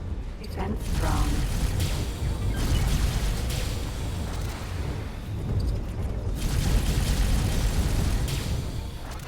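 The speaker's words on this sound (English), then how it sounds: "Explosion imminent." A station exploding in the space game X4, heavy rolling booms and crackling bursts rising in waves, loud and close, with a computer voice and talk over the din.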